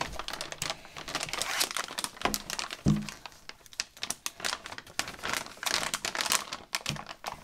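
Crinkling plastic and cardboard packaging being torn and unwrapped from an EVGA GeForce GTX 550 Ti graphics card, close and busy with irregular crackles, rustles and a few sharp snaps, no voices.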